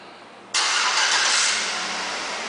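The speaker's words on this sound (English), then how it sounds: "One of the many vehicle options in this vehicle is a remote start, and I'll demonstrate that for you now." A 2009 Chevrolet Tahoe LTZ fires up by remote start after a quiet moment, the engine catching abruptly and settling into a steady, fairly loud idle with no talk.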